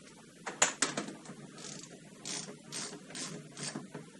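Ratcheting clicks from a wrench loosening a locking nut on the tiller arm of a Berkeley jet boat pump, a sharp cluster of loud clicks followed by softer, evenly spaced ratchet strokes.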